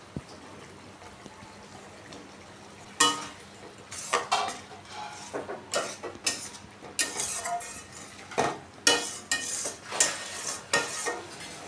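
Spice paste and fried potatoes stirred in a metal pan for a mirror carp curry, a spatula scraping and clanking in repeated irregular strokes, close and clear with a soft sizzle underneath.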